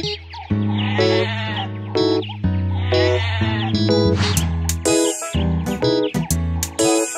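Sheep bleats sound repeatedly over bright, tuneful nursery-rhyme music for kids, each bleat quavering and close, with no talking.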